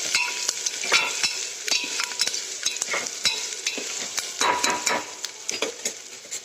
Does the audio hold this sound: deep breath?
no